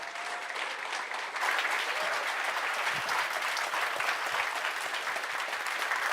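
Steady applause from a conference audience welcoming a keynote speaker at a Linux and open-source expo, a dense even wash of clapping with no voices over it, swelling slightly after the first second and holding.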